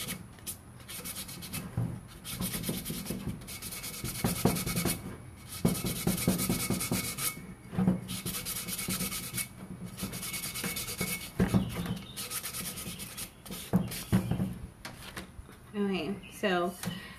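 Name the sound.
sanding a cup with 220 grit sandpaper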